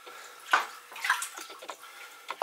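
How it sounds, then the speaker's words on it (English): Water poured from a mug into a large tray to set up a bain-marie for baking meatloaf, heard as a few close splashing gushes and gurgles in quick bursts, faint against a quiet kitchen. "into that tray I'm just going to pour some water"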